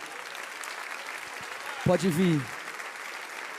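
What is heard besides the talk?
church congregation applauding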